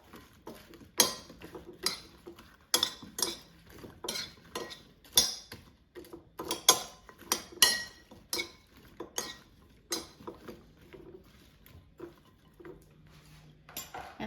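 Sweet red peppers being tossed with oil, salt and black pepper in a bowl, a rapid run of clinking utensil knocks and rattles against the bowl, close and fairly loud, with no one talking.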